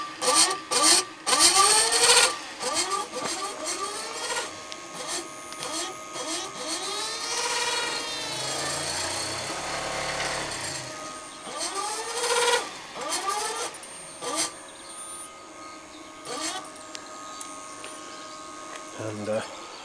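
Small motor of a light electric vehicle run through a soft start controller, pulsed on and off so its whine rises slowly and drops quickly in repeated sweeping bursts, with a faint hum underneath.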